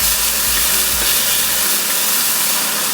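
Peppers and onions frying in olive oil in a medium-hot pan, a loud, dense, continuous sizzle and hiss close up, steady throughout with a faint low rumble early on.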